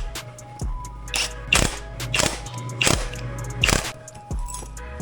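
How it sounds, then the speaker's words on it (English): Case splitter tool being worked on a Yamaha YZ250 two-stroke engine crankcase, a series of close metallic clicks and ratcheting snaps repeating unevenly in a quiet shop, without talk. "We're gonna go ahead and split this case. I got the case splitter pretty much on here."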